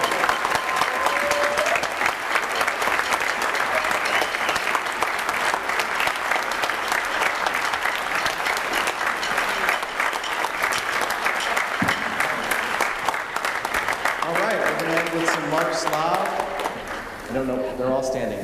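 Sustained applause from a school orchestra concert audience honoring the departing music-boosters president, steady and dense for most of the clip, with a voice beginning to speak near the end as the clapping fades.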